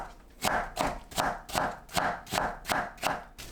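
A knife julienning radish on a cutting board, with about nine evenly spaced crisp chops in a steady rhythm, close and clear.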